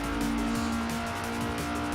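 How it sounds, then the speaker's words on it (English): An FSO Polonez engine revs hard up through third gear on a slightly uphill stretch of the Nürburgring, a steady loud drone with a rising engine note throughout, close and alone with no talk. "Using all the revs here up in third gear"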